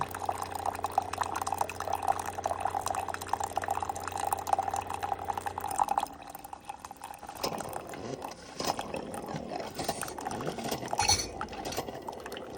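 Spoon clinking against a mug while stirring 3-in-1 coffee with hot water, a steady run of close, light metallic taps and liquid swirling, with a humming background in the first half.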